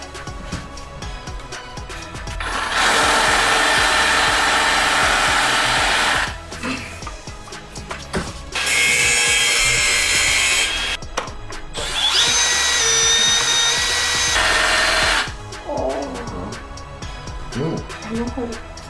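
A loud, steady whining saw buzzes in several long bursts as it cuts through a plaster cast, separated by short pauses filled with quieter voices and handling noises.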